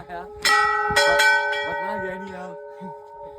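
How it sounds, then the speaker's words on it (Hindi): Children strike a temple bell several times in quick, uneven succession, ringing loudly and leaving a sustained metallic hum, with voices faintly beneath. "छोटे छोटे बच्चे भी आए हमारे साथ जो घंटी से खेल रहे हैं यहाँ पे।"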